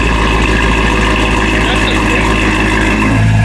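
A BMW E9X M3 with the S65 V8 idles with its ECS valved exhaust open, giving a steady, loud, deep burble throughout. Speech is faintly present over the engine.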